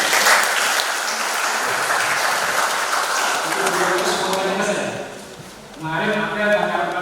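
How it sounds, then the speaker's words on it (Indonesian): At a youth organisation coordination meeting, the audience gives loud, dense applause for about five seconds, which fades out before a voice speaks over the room. "Tepuk tangan dulu Bapak Pj."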